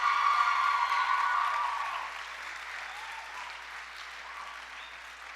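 Audience applause fills a middle school choir concert hall, a dense wash of clapping that starts strong and gradually thins and fades over a few seconds.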